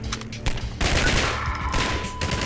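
Rapid bursts of automatic gunfire in the video game Half-Life 2 crackle and rattle continuously, loud and close, with a few sharper single shots among the volleys.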